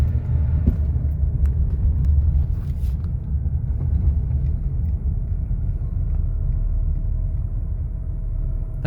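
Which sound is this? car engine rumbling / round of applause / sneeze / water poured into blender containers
car engine rumbling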